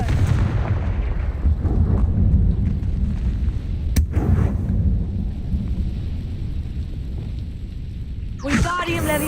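A fiery Confringo blast spell in the Hogwarts Legacy video game: loud, continuous rumbling booms and crackling roar with a sharp crack midway, ending in a bright whooshing burst.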